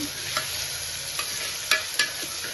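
Onions and tomatoes frying in a pan, a steady close sizzle with a few sharp crackles and light spatula scrapes near the end; no talking.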